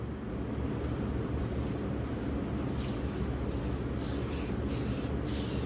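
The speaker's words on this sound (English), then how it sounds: "once we spray the silver on" A steady hiss of silver spray paint on a thermal detonator prop runs continuously, with faint pulses of added hiss near the end as the spray is pressed repeatedly.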